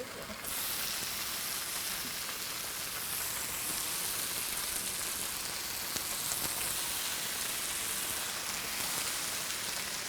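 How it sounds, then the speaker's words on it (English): Meat sizzles on a hot griddle with a dense, even crackling hiss that starts abruptly and holds steady and close, with no voices over it. "There it goes, sizzle."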